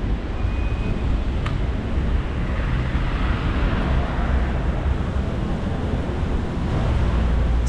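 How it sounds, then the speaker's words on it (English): Strong wind blows through Cape Town at night, a constant heavy roar and low rumble buffeting the microphone throughout, with a faint brief tone and a sharp click early on. "Very windy, guys."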